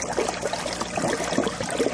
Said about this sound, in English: so you see that water returning in